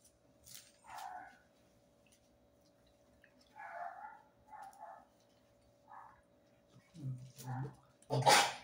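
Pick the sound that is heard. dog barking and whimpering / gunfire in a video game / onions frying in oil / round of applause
dog barking and whimpering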